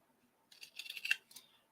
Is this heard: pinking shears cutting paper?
yes